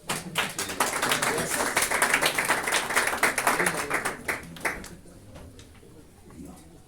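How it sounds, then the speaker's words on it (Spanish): Church congregation claps at a Sunday service, a lively round of close, crisp hand claps that holds strong for several seconds, then dwindles to a few stray claps. "Damos un aplauso al Señor."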